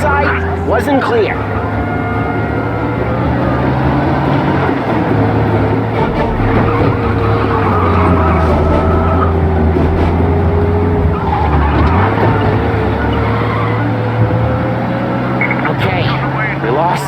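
A car engine roars and revs at high speed with tire squeals in the video game Mafia: Definitive Edition, loud and continuous, while voices talk over it.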